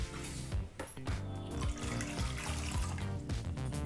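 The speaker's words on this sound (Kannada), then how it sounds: "ನೀರನ್ನು ಹಾಕೋಬೇಕಾಗತ್ತೆ." Water pours into a pan set on a kitchen stove, a short continuous gushing splash that is close and steady.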